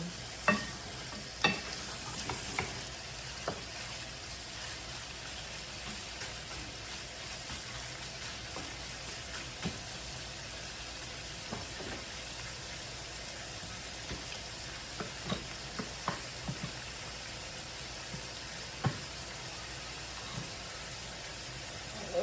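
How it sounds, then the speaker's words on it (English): Pork and then squid stir-frying in a pan for rice crepe filling, a steady broadband sizzle with scattered clicks and scrapes of a utensil stirring, close and continuous with no talk. "Stir fry pork meat first and then squid"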